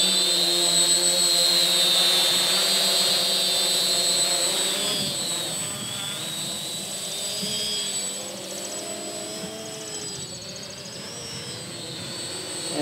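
A multirotor drone built from an AnyCopter hub kit with a KK2 flight controller hovers nearby, its motors giving a steady, loud whine whose pitch wavers up and down as it holds against the wind, without any talk.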